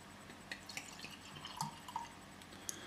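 Thomas Hardy's ale, a bottle-conditioned beer with natural sediment, being poured carefully from its bottle; quiet, close liquid trickling and dripping with small glugs and splashes, soft and steady.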